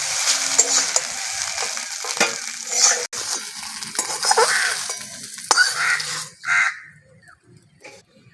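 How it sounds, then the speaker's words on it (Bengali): Scraping stirs and a crackling sizzle of egg frying in a pan, with a few sharp clatters, tapering to near quiet at the end. "ডিমটা ভালো করে ভেজে ভুজিয়ে বানিয়ে নিয়েছি এটা তুলে নেব"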